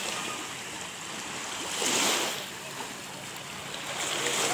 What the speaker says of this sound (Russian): нормальные волны такие пошли. И уже звук воды усиливается.